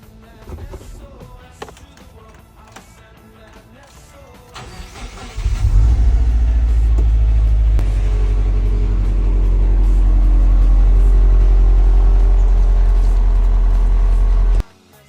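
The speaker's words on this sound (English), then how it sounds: "here is it running for the first time since like forever" A rebuilt Subaru WRX engine cranks and fires up for the first time after its rebuild, then settles into a loud, steady, close idle with a deep rumble for several seconds before cutting off abruptly.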